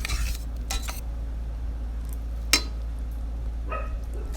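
Cooked mulberry juice is transferred into a glass jar in a home kitchen, with scattered clinks and scrapes of utensils against glass, a sharp single knock midway, over a steady low background hum.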